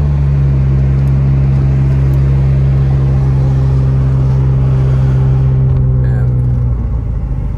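Car cruising along a lake road in Big Bear Valley, a loud steady engine and road rumble from inside the cabin, constant throughout with a brief spoken word at the start.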